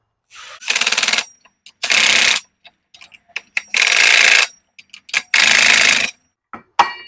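An Ugga Dugga impact wrench works on the clutch of a Teryx 800 during a clutch spring upgrade. Four loud, rattling hammer bursts of about half a second each are separated by small clicks and clanks of tools handling metal parts.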